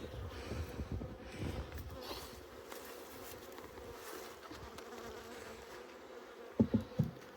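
Honey bees buzz in a low, continuous hum close by while being installed in a hive, with a few soft thumps and rustles, ending in a couple of sharp knocks.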